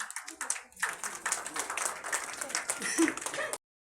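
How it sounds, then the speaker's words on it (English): Big round of applause from an audience at a journalists' forum honouring ceremony, loud sharp clapping that swells and ebbs for a few seconds before cutting off suddenly, with voices mixed in. "give a big round of applause"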